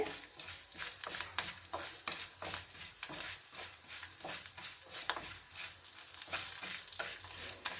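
Urad dal and chana dal fry in a pan with a soft, continuous sizzle and rhythmic stirring scrapes, quiet and close, with no talking.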